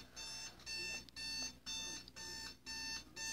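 A household fire alarm beeps in a steady repeating pattern of six long, shrill electronic tones separated by short gaps, moderately loud indoors.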